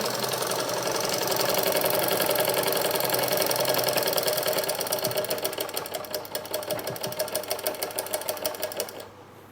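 An electric sewing machine stitches fabric for narrow pants in a fast, even mechanical whir with rapid needle ticking, running steadily and then slowing and stopping near the end, with no talk.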